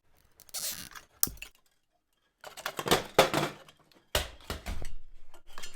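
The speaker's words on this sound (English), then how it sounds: "I think we need a zip tie here." A zip tie is pulled tight around wiring on a heat-powered ceiling fan for a hot tent. It gives several close bursts of rapid ratcheting clicks separated by short silent pauses.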